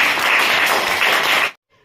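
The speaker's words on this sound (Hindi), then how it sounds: "ताली बजा दो इसके लिए।" Children applaud together in a classroom with a brief burst of steady, dense clapping that stops abruptly.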